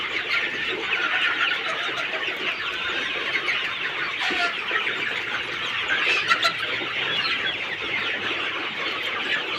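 Sonali super hybrid chickens cluck steadily inside a poultry shed with its side curtains opened, a dense continuous chorus of many birds close by, with no talking.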